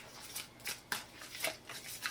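Tarot cards being shuffled quickly by hand, a run of crisp riffling, papery bursts in an uneven rhythm, close and fairly quiet, with no voice over it.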